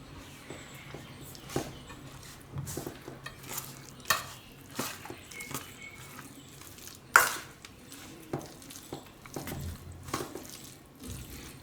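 A spoon stirs yogurt into a poha handvo batter in a bowl, giving quiet, irregular wet scrapes and soft clinks against the sides over a faint, hollow kitchen background.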